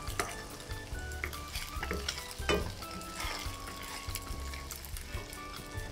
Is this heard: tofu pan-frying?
yes